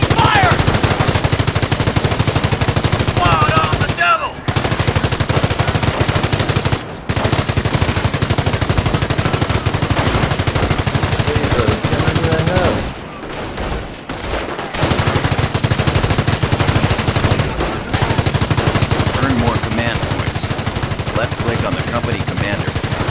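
Loud, sustained machine-gun and rifle fire fills a Company of Heroes battle, dense and continuous with only brief gaps.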